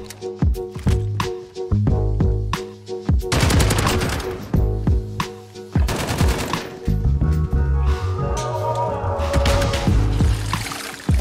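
Repeated sharp gunshot cracks ring out over several seconds of Modern Warfare multiplayer, some in quick bursts and others spaced apart, with dense gunfire and game noise in between.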